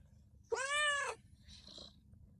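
A pet cat gives one clear, fairly loud meow followed by a softer, shorter mewing sound, close by with a faint low background rumble and no talking.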